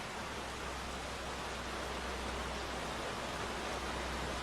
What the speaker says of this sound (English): You can have rain if you want to.